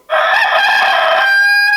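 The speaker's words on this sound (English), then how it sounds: "That's a rooster." A rooster crows loudly and close in one sustained call, a sound effect on a farm theme, rising and then holding a strained high note to the end.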